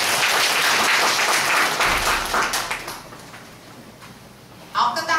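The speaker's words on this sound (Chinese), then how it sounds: "我们给予热烈的掌声" A crowd at a children's music recital applauds loudly, the dense clapping fading over a few seconds as a voice speaks near the end.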